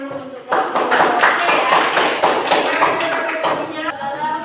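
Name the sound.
applause for the group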